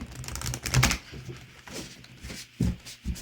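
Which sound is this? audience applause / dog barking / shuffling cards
shuffling cards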